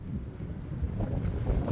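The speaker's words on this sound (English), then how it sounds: "it's windy" Wind gusting outdoors on a cold trapline day, a steady low rumble with buffeting against the microphone that builds slightly partway through, with no voices.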